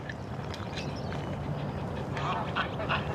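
A duck on Silverbell Lake quacks in a quick series of nasal calls over open outdoor background noise at moderate distance, with other birds faintly around.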